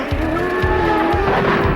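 Champ Car open-wheel race cars roar off the line at the start of the 2006 San Jose street race, loud sustained engine whine with tire squeal and repeated low thumps.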